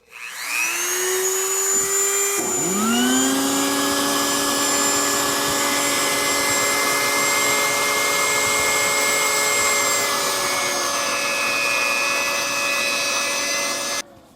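A vacuum cleaner drones loudly and continuously while cleaning up microplastic particles, its whine rising as the motor spins up and holding a steady pitch throughout, with no talking.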